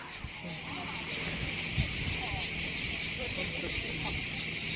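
Dense, constant crickets chirping in a shrill outdoor chorus at Paraggi Bay near Portofino, Italy, steady throughout with faint wind and low rumbling underneath.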